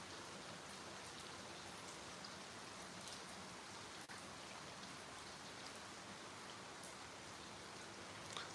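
Steady rain falls outdoors under cloudy skies, a dense, even hiss of drops on surfaces that stays constant and fairly close throughout, with no voices.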